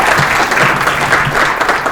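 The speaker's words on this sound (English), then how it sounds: "Let's give her a round of applause." A crowd at a public speaking event applauds steadily and loudly for the whole two seconds, dense clapping with no voice over it.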